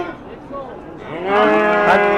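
A single cow moos loudly and close by at a livestock market. The low call rises into a long, strong, drawn-out bellow over the faint murmur of the crowd.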